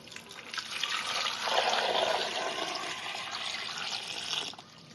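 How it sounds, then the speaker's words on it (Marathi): Water pours into a pressure cooker holding potatoes, a steady splashing gush lasting about four seconds before cutting off. "टाकल्यानंतर त्याच्यात पाणी ओतून उकडून घ्यायचं"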